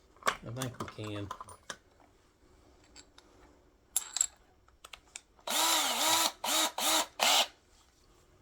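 A power drill works inside a Mitchell MS100 acoustic guitar body, with several loud whirring bursts, first one short run, then a series of quick pulsed runs. Someone speaks briefly earlier, between clicks and handling noises.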